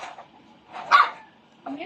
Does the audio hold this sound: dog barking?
yes